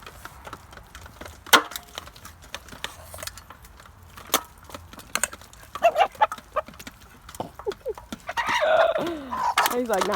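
Backyard farm chickens cluck in short, scattered bursts while eating homemade feed, close by, with people talking over them.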